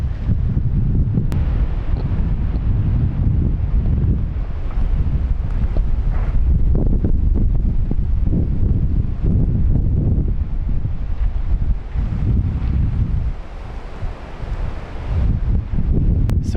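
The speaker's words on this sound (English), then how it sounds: "So we've had these wind gusts" Wind buffets the microphone in a continuous, heavy roar that surges and eases in gusts, loud throughout with no talking.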